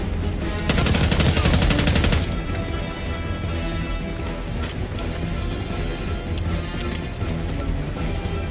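Heavy automatic gunfire from a weapon in Call of Duty: Black Ops 6 rattles out in a loud, dense burst lasting over a second, then fades into a steady wash of game-world noise and scattered distant pops.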